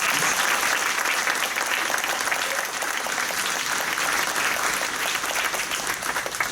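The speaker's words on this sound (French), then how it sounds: "on peut applaudir Pierre Laurier-Doux" Sustained applause from a crowd at a town council meeting, even and steady throughout, a dense patter of many hands clapping.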